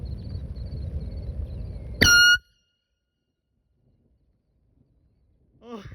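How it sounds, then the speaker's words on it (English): A single loud blast of an air horn, used to scare birds, sounds for about a quarter second over faint outdoor background, followed by silence and brief distant bird calls. "I'm going to scare the white bird with the air horn."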